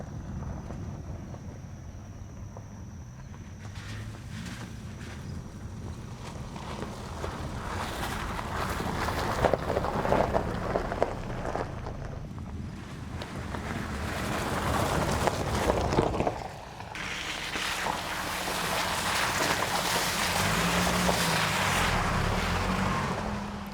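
2024 Toyota Tacoma pickup truck driving past outdoors, a broadband engine and tire rumble swelling and fading in waves with some wind buffeting on the microphone.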